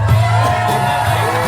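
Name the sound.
crowd cheering springboard chop at lumberjack show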